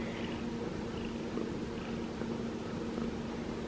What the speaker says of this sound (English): She purrs all the time if she's even near a person.